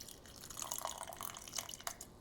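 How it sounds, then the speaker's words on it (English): Water from soaking tamarind poured into a pot of lamb vindaloo curry, a faint, close trickle and splash with light dripping, alone without talk. "And now I'm going to add the tamarind with the water."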